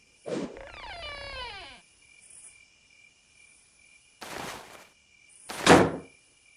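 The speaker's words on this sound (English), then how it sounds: "Guess I better knock on the front door." In a video game, a creaky tonal sweep, then after a pause two dull knocks on a front door, the second louder.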